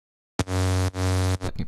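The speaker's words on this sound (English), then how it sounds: "the regular saw wave with some white noise," A buzzy saw-wave synth tone with white noise, distortion and multiband compression, played as two sustained notes and a short third, loud and upfront.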